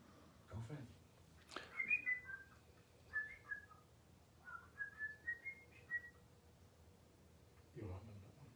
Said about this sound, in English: Julie heard a whistle.